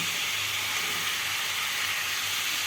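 Ginger garlic paste, green chillies and tomato frying in a pan, a steady close sizzling hiss with no breaks and no talking.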